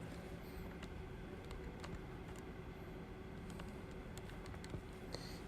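Numbers punched into a calculator by hand: a quick run of light, close plastic key clicks in irregular rhythm over faint room hiss, with no voices.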